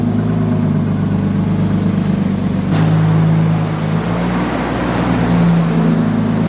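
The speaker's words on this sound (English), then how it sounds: "Automan is actually moving all the cars out of there so we can get this car into the paint booth" A car engine idling and revving inside an auto body shop as cars are driven out, a steady loud low rumble close by with a shift in pitch partway through, no talk.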